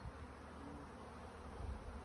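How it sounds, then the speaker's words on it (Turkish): Steady, dense buzzing of honeybees close by during the capture of a swarm in Antalya, continuous throughout with no voices. "Arı. Arı."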